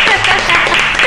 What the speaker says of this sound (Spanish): Otro aplauso, que se escuche, que se escuche.